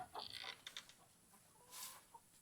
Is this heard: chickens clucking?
yes